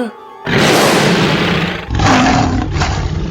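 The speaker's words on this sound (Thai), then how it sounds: "มีเสียงเสือร้องคำรามลั่นมาจากราวไพ่" A loud, close tiger roar surges in after a brief quiet start, rumbling for over a second, dipping, then swelling again in a second roar as a dramatic sound effect within a horror story narration.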